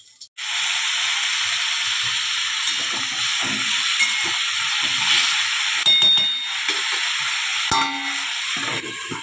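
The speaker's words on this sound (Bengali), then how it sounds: "আর এদিকে বেগুন ভাজাটা হচ্ছে তাড়াহুড়া করে বসিয়ে দিয়েছি" Sliced eggplant frying in hot oil in a pan, a steady loud sizzle and hiss running throughout with small crackles, no voices.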